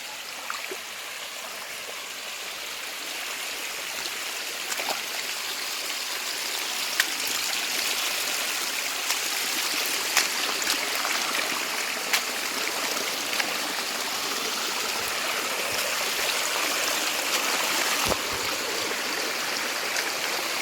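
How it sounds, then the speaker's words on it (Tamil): Water pours steadily over a small fall in a temple stream, a continuous broad rushing roar close by, with occasional splashes and drips. "அவ்வளோ அழகாக ஃபால்ஸில் தண்ணி விழுந்த மாதிரி விழுது"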